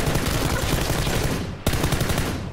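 Sustained automatic gunfire in the video game PUBG, loud and close, a dense continuous stream of rapid shots with a brief break partway through before firing resumes.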